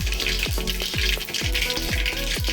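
Mustard seeds frying in hot oil in a kadai: loud, dense sizzling broken by rapid, repeated sharp pops and crackles in an uneven rhythm.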